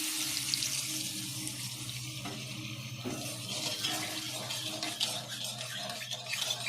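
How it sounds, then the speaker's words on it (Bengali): Water pours steadily into a pan while potol posto cooks, a continuous splashing trickle heard close and alone throughout. "দিয়ে সামান্য জল দিচ্ছি।"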